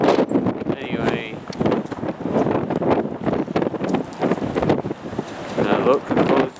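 Strong wind buffets the microphone outdoors at the Goulburn Roundhouse railway depot, a steady loud rumble throughout, with talking running underneath.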